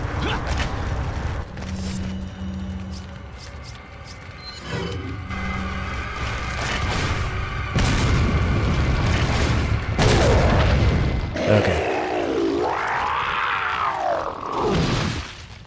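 Rocket launcher blasts thunder in Resident Evil 4 on the GameCube, heavy booms mixed with creaking, metallic game effects and a sustained rumbling roar, ending in a warbling, wavering groan; no talking over it.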